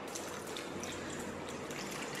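Lukewarm water pours in a soft continuous trickle onto yeast and sugar for burger bun dough, faint and steady without talk.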